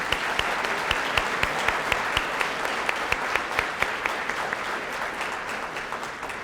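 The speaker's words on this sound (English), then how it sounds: "Would everyone please give a round of applause for all of the first responders we have tonight?" Sustained applause from a banquet audience honoring first responders at a regional Crime Line dinner and Top Cop awards, dense steady clapping throughout with a few sharper claps standing out.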